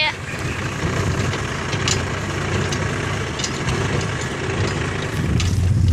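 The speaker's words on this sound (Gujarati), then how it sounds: "ટ્રેક્ટર એ ચાલુ થઈ ગયું છે" A tractor engine runs steadily near a loaded trolley ready for unloading. It is a close, continuous low rumble that stays even throughout.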